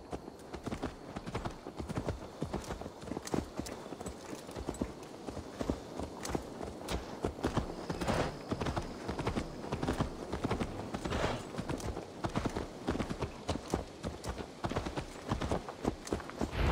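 Horse hooves clip-clopping in Assassin's Creed Valhalla, a steady quiet rhythm of hoofbeats continuing throughout.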